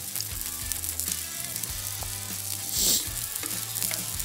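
Cold cooked rice being stir-fried in a hot pan for fried rice gives a steady, close crackling sizzle with soft scraping stirs and a brief louder hiss near the end, and no voices.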